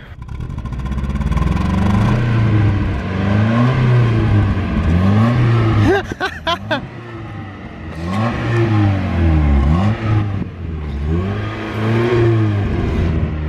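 A Mazda Miata engine revs loudly in repeated rising and falling bursts, pausing briefly midway before revving again, close and prominent.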